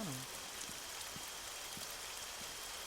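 Steady rain falls across the whole stretch in the Arma 3 video game, a dense, even hiss with a few faint low taps, during a car race event on a Turkish server.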